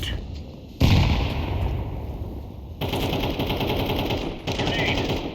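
A grenade is thrown and goes off during a Counter-Strike 2 Premier match. Loud, abrupt bursts of blast and rapid gunfire come in several waves, close and harsh.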